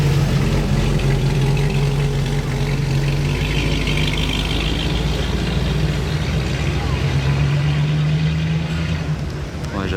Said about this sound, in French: J'adore ce bruit des anciens moteurs américains.